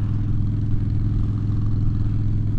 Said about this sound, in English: While I ride around feeling like a rebel with my highly illegal exhaust.